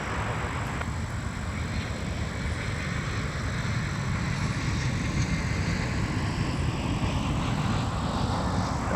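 A jet airliner on final approach to land on runway 12 right at Minneapolis–Saint Paul airport, a steady broadband engine roar filling the clip at constant loudness with a faint high whine above it.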